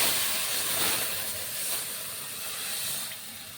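Water poured into a hot pan of lofa greens and fish hisses and steams steadily, a close, even sizzling wash that fades slightly toward the end.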